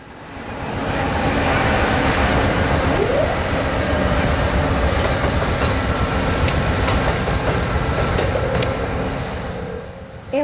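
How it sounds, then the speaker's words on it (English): An Amtrak Capitol Corridor train, hauled by P-42DC locomotive 145 in 40th anniversary paint, passes close by at Niles Canyon, its loud rushing roar and wheel clatter rising quickly and holding steady before tapering off. "The next train to come through was westbound Capitol Corridor, heading from Sacramento to San Jose."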